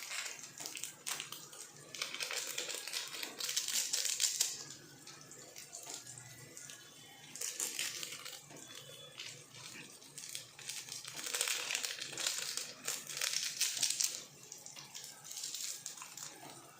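Masala seasoning packets crinkle and rustle close by as they are torn and emptied into Maggi noodles, coming in uneven waves of crackly, papery noise over a quiet kitchen background.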